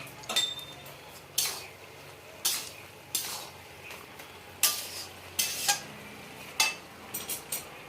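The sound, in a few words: stirring curry in a pan with a utensil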